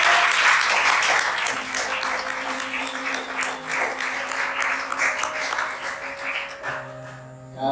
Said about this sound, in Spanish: Así, un aplauso fuerte